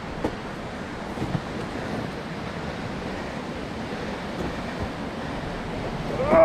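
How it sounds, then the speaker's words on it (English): Small waterfall and stream below Big Bear Dam, a steady rushing wash of falling water with outdoor wind noise, continuous and fairly loud, rising slightly at the end, no talking. "Look at this little waterfall."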